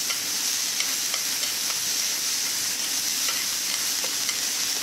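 Japchae vegetables seasoned with salt and pepper sizzle steadily in a hot pan as they are stir-fried, a dense, even crackle with faint scraping throughout and no voices.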